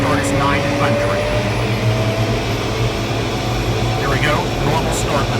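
A light aircraft engine runs loud and steady up close, its broadband roar with a pulsing low drone holding through the whole stretch while a voice talks over it.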